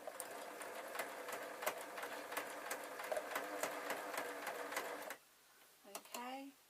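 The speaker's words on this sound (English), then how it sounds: "then just allowing the machine to take it" Sewing machine stitching homemade bias binding, a rapid steady clatter of needle strokes running for about five seconds before stopping, followed by a brief spoken voice.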